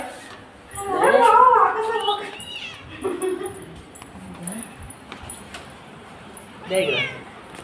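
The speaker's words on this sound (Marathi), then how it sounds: "या मांजर दाखव, आपल्या मांजर दाखव, हे मांजर दाखव ना।" A cat meows several times, a long drawn-out cry first, then shorter calls, fairly close, alone with faint background rustle between them.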